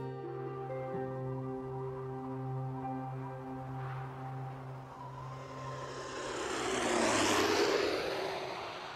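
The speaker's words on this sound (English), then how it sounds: "My plane touches down on a 4-mile-long windswept strip of land known as Barter Island" A propeller airplane touches down on the windswept Barter Island airstrip on the edge of the Beaufort Sea, a droning engine tone falling into a rising roaring rush near the end, steady and moderately loud.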